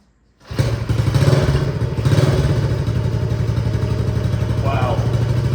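A 1971 Honda SL70 small motorcycle engine fires up on a cold start with the choke on, catching abruptly then settling into a steady, fast, close thumping idle.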